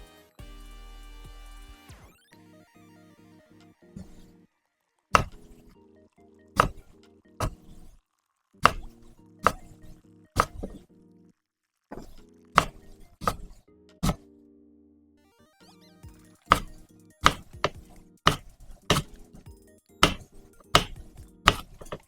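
Knife chopping stew ingredients on a cutting board for Irish stew, with sharp, separate thunks coming in irregular bursts. The chops are close and crisp, with quiet pauses between the runs.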